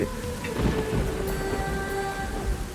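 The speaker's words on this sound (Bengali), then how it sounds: "ওই তো বৃষ্টি নেমে গেল।" Steady rain pours down in a dense, even wash, with a low rumble of thunder rolling beneath it throughout.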